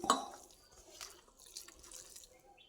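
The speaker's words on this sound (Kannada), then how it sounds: "ಈಗ ಇದಕ್ಕೆ ನೀರು ಹಾಕಿ ನಾದ್ಕೋಬೇಕು" Water is poured into a bowl of cornflour and shredded cabbage mix for kneading cabbage manchurian dough. There is a brief splash at the start, followed by faint trickling and small drips close by.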